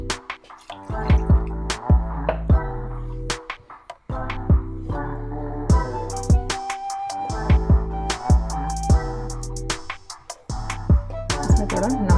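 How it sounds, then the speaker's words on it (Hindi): Water is poured into an egg masala being cooked, heard as a run of close drips, splashes and small clinks in an irregular rhythm, with no voice over them. "इसमें और थोड़ा पानी डालेंगे"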